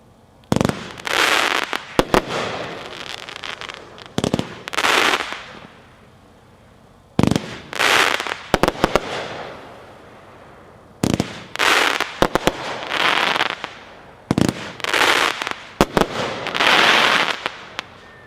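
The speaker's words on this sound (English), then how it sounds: "Number 3, Nothing to Lose, Most Wanted brand, packed 1-4, 25 shots." A Most Wanted brand Nothing to Lose 25-shot firework cake fires in repeated bursts: sharp launch thumps, each followed by loud crackling breaks, in several clusters with brief gaps between.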